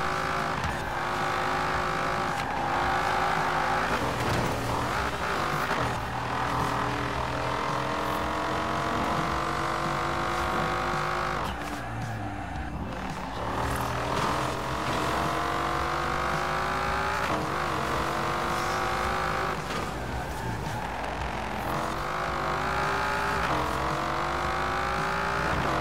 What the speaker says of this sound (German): Wahnsinns V10. Ein irre geiler Sound.